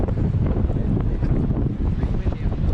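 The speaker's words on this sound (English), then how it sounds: "I just said it's a bit windy up top" Wind blows on a hilltop near Boscastle, buffeting the microphone in a steady, loud, rough roar with gusty swells throughout.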